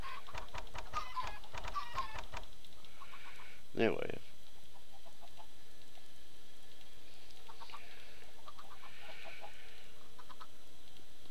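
Chickens cluck in Minecraft, a few short bursts at the start and later around the middle and end, faint and fairly close, with a single louder sharp sound in between and someone talking briefly.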